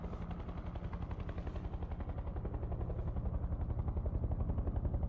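A video game helicopter drones with a steady, fast rotor chop that grows slightly louder over a few seconds, with no other sounds over it.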